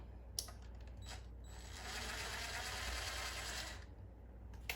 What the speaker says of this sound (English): And then I'm going to take the front screw out too.